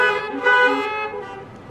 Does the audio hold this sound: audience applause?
no